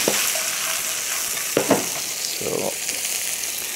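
Onions fry with bacon in a pan, making a continuous hiss as they are stirred in, with a few scraping strokes; a voice speaks one short word at the start.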